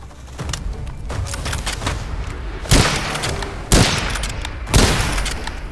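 Gunfire in the first-person shooter Witchfire cracks out in three loud, evenly spaced shots about a second apart, set against a busy, rumbling game soundscape with no talking.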